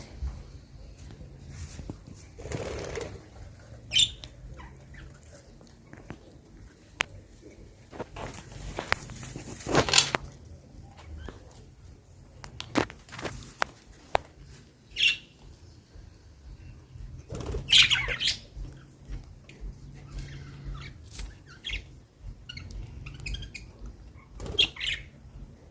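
Small birds calling in a home garden, with brief high chirps scattered through the quiet, plus soft footsteps and occasional coo-like pigeon or dove sounds nearby.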